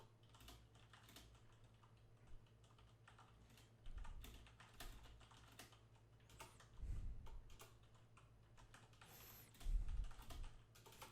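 Fingers type steadily on a computer keyboard during a typing lesson that practises the N, O and T keys plus Shift, giving a quiet run of close clicks and occasional heavier keystrokes, with no talking.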